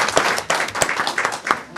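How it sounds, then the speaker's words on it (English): A round of applause at a council meeting, a modest group of people clapping nearby in uneven, distinct claps that keep going for the whole stretch. "Let's give her a round of applause."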